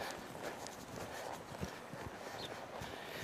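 A horse loping through a barrel pattern in an arena, with faint rhythmic hoofbeats under a broad wash of background noise.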